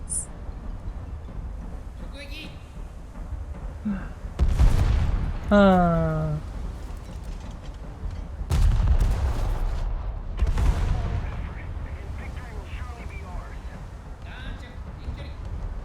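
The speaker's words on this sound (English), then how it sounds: "Enough with the missiles!" Missile launches and explosions in a naval video game, with sharp bursts and booming impacts punctuating the scene while a person talks over much of it.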